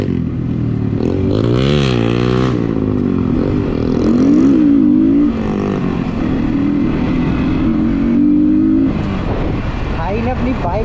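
A modified Yamaha Sniper motorcycle with a loud aftermarket exhaust roars nearby while being ridden, its engine revving up and down in repeated rising and falling sweeps, with people talking over it throughout.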